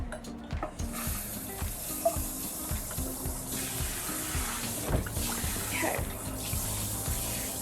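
Water runs steadily into a sink while dyed hair is rinsed under the tap, giving a constant splashing hiss. Brief thumps and handling noises break in, and one short spoken word is heard.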